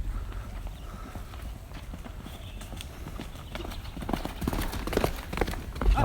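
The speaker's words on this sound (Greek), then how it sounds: "μας την πέσαν και τα άλογα, κάτι ακούω" Horses walk along a rural road in Bali, their hooves clip-clopping in a quick, irregular rhythm that grows louder as they come closer. Faint background noise is also heard.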